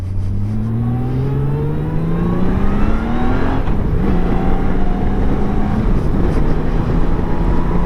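A Honda GL1500 Goldwing motorcycle with a freshly rebuilt carburetor accelerates smoothly, its engine note rising steadily through a gear change under loud wind rush while riding, with no talk.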